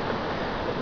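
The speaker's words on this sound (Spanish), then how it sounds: "Graba el río, para el río." A river rushes past in a steady broadband roar of flowing water, close and continuous across the whole short moment with no voices.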